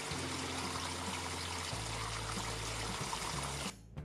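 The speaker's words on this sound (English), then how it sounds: "it is actually a waterfall that goes down into my koi carp pond" A garden waterfall splashes down into a koi carp pond, a steady, close rushing trickle that runs without a break and cuts off just before the end.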